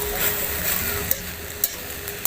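Food cooking in hot oil over a fire, with large onion pieces in the pan, gives a steady close sizzle broken by a few sharp scrapes and clinks of stirring, with no voices.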